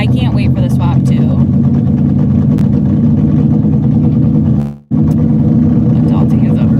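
A car engine idles loudly right alongside at a drag racing staging lane, a steady low rumble that cuts out for an instant before resuming, with a person talking over it.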